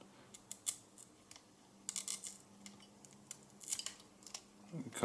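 Tape is peeled off an internal part of a disassembled Nikon D3300 camera, producing faint, close crackling and sticky ticks in scattered bursts against a quiet background.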